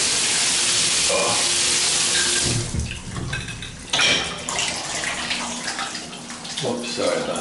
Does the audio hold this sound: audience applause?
no